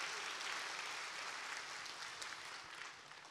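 A church congregation claps at a Thanksgiving Sunday intergenerational worship service, a steady, dense wash of applause heard at a distance, soft and fading slightly toward the end.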